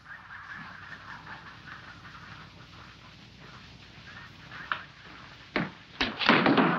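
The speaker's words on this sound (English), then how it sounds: "Somebody shut them doors down there, please, so I can work." Doors bang in a theater: a steady murmur of room noise gives way to several loud, sharp thuds clustered near the end, the last ones heavy and booming.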